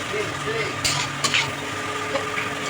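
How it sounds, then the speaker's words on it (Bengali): Onion frying in a pan for a spicy red crab curry: a steady, moderately close sizzle with a few sharp stirring clicks and scrapes scattered through. "পেঁয়াজটা একটু আমরা গোলাপি গোলাপি করে ভেজে নেব,"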